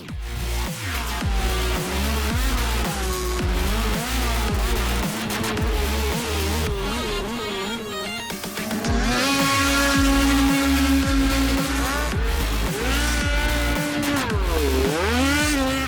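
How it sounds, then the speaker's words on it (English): Brand new snocross race snowmobiles are ridden during break-in, their loud engines revving and rising and falling in pitch as the sleds pass nearby, with no speech. "these are brand new race sleds we're on right now. They got 0 time on, so we're just out there breaking these in this morning"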